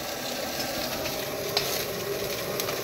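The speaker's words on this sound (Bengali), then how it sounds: "আমুদি মাছ ভাজা" Amudi fish sizzling in hot oil in a pan, a steady dense crackle and hiss throughout with a faint tap or stir, close and continuous, no talking.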